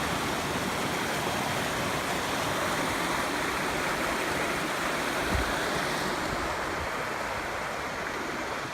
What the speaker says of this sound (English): this is Tonto Creek.